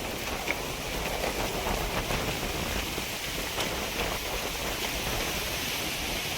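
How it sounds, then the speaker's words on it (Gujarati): Steady wind gusting outdoors near a temple beside a river in a village, a broad continuous rushing noise that fills the whole stretch without pause, close and fairly loud, with no voices over it. "કેવો પવન આવે અહીં"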